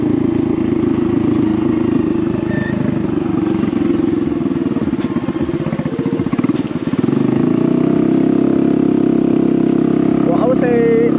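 A Honda Navi motorcycle fitted with a Vance & Hines performance exhaust growls loudly up close, its engine note rising and settling. Someone talks over it throughout.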